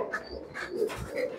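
Pigeons coo softly nearby, a few short throaty coos in an irregular rhythm against a quiet background.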